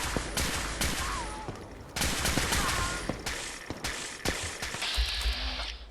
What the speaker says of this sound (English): There's some sort of firefight happening here.